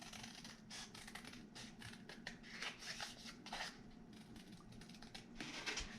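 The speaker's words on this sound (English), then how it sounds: "So I am basically going to trace around this until I have it cut out." Scissors cut a rough circle out of material for a homemade round box, making steady close snipping and rasping strokes that stay fairly quiet throughout.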